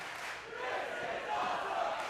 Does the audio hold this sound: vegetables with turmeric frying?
no